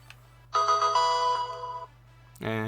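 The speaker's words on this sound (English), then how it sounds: "And that was my phone." A phone ringtone chimes in a short melodic phrase over a quiet room, cuts off, then starts again at the very end.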